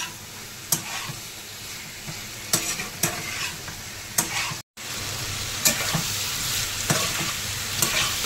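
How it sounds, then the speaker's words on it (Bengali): Mutton fat, potatoes and spices stir-fried in a pan for yellow pea ghugni, with a steady loud sizzle broken by repeated scraping strokes of a spatula and one brief drop-out in the middle. "আলু ভালো করে কষিয়ে নিচ্ছি।"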